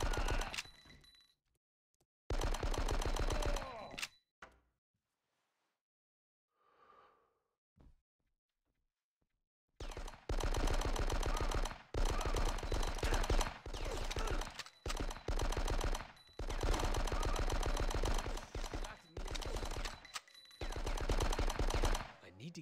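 Dense bursts of rapid gunfire in the Die Hard: Nakatomi Plaza video game, loud and sustained in long volleys, broken by a quiet gap holding a faint breath-like sound, with no talking.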